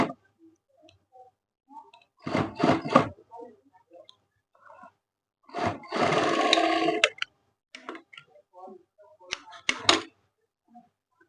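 Sewing machine stitching a half-foot single seam on a ladies' trouser, heard in a few short bursts of rapid mechanical whirring and clicking, separated by quieter handling sounds and brief speech.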